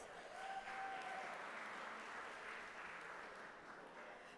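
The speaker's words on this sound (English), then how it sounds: "Yes, give yourselves a round of applause" Gala audience at a 25th anniversary awards celebration applauds in a steady, even wash of clapping that holds for several seconds at moderate distance, with no voices standing out.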